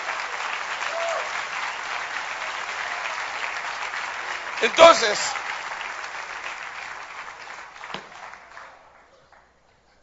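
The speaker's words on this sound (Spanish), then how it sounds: "Denle un aplauso bien fuerte al Rey." A crowd at a spiritual gathering breaks into loud, sustained applause for a man called the King, a dense clapping wash with a voice briefly over it, one sharp burst midway, then a fade to silence.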